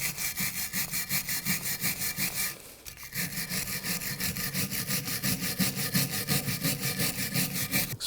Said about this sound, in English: I'm going to use a wire brush and clean up the bracket